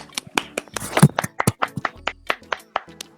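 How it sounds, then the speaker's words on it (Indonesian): A small group claps in a classroom or discussion setting, with sparse, uneven hand claps, some sharp and close, thinning into a few scattered claps near the end. "Tepuk tangan untuk semua."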